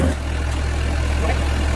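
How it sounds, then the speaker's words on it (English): A tractor engine idles steadily close by with a low, even rumble that holds unchanged throughout, kept running while working a tilled garden bed. "I'm gonna leave the tractor going because that keeps my hydraulics up"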